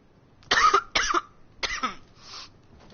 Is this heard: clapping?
no